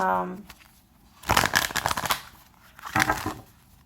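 Two quick bursts of tarot cards being riffled and shuffled, close up, after a brief voice at the start.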